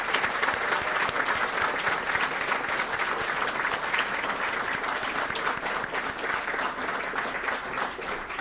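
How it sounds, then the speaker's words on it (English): An audience at a Pittsford Central School District Board of Education meeting applauds award recipients, dense continuous clapping that holds strong and even for several seconds before easing slightly at the end. "Give them a big round of applause."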